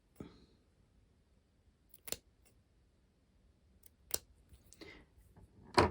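A few sharp scissor snips through fabric, spaced a couple of seconds apart, close and fairly quiet against near silence.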